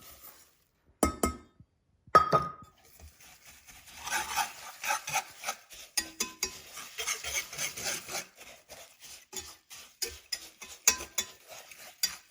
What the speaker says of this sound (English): Give that a stir. Make sure we don't have any big coconut lumps.